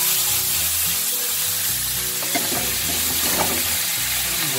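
Water poured into a hot pan of blanched food sizzles and hisses steadily and loudly, with some stirring clatter and a faint low hum running beneath, no voices present.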